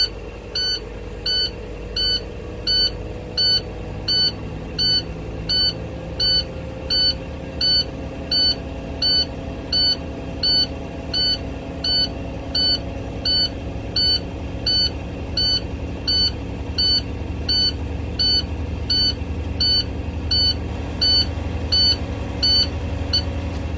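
A truck's low air pressure alarm beeps in a steady, regular rhythm over a running diesel engine idling nearby, repeating throughout.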